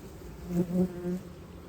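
Steady buzzing from many honey bees at a hive, a dense low drone with a few louder swells as insects pass close, no voices.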